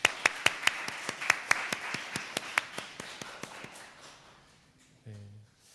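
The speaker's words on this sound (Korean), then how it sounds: "우리 옆에 있는 분들을 박수로 환영했으면 좋겠습니다." A church congregation at a Sunday service claps in welcome, a burst of quick, sharp, fairly close handclaps that thins out and fades after about four seconds, followed by a faint low murmur.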